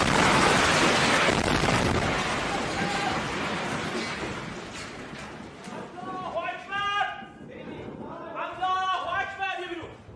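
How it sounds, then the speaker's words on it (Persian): An Israeli air strike hits an Iranian TV studio during a live broadcast: a loud, rumbling blast and its debris noise fill the start and fade gradually, then shouting voices rise near the end. "बराह रास्त नशरियात के दौरान फिजाई हमला हुआ"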